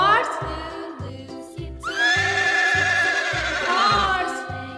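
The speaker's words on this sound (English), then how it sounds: "H for horse" A horse neighs and whinnies over a steady, rhythmic music backing, the high, wavering calls loud and close and rising from about two seconds in.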